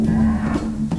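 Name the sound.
cow mooing from a cow lamp in a video game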